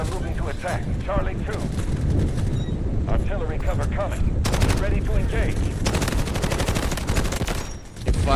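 Artillery fire in the Delta Force game, with repeated booms and bursts of gunfire over a dense battlefield din, as a voice talks intermittently.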